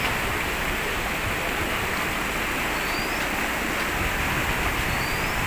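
Rainwater rushes and overflows a drain at Girnar in Junagadh during heavy, continuous rain, a steady, loud, broadband roar with no breaks and no voices.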